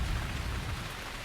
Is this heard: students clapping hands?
no